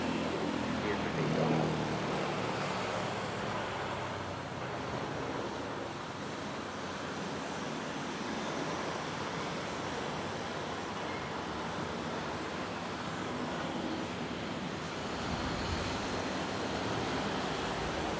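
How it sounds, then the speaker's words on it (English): A plane takes off from Manila's NAIA airport, heard as a steady, distant broadband roar from a plane spotting spot, constant for the whole stretch with some wind rumble. "Yeah, nice takeoff."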